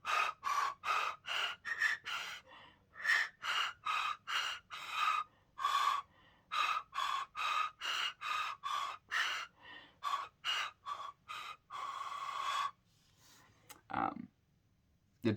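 Homemade pan flute made from drinking straws playing a simple original melody, breathy airy tones in short blown notes with small pauses, thin and fairly quiet, ending with a stumble.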